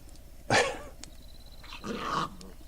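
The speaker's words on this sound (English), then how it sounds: "The dogs are fighting." Dogs fighting: a sharp snarling bark bursts out, then a longer growling snarl follows after a pause, fairly close against a quiet background.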